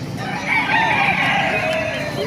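A rooster crows loudly and close by at an animal market in Baliuag, Philippines, amid a busy din of other fowl clucking and background chatter.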